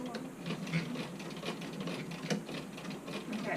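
A hand-crank Porcelynne Little Rachel sewing machine stitches with a steady, fast rattling chatter of the needle mechanism, close and continuous throughout.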